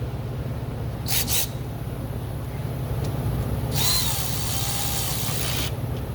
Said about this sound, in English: Now what I'm going to do is I'm just going to snug them up.